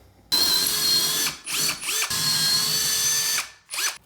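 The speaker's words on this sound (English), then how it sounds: "Drill your holes." A power drill bores holes in a shower wall for mounting a framed shower door's wall jamb, giving close, loud whining bursts that start and stop with brief pauses between them.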